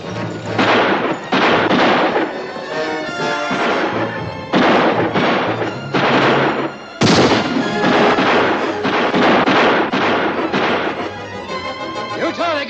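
A Western film shootout set in Utah, with rapid rounds of gunfire: dense, overlapping shots and thuds fire continuously with hardly a pause, loud and close, over a busy mix of action sounds.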